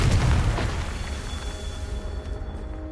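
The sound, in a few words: Confringo spell explosion, Harry Potter video game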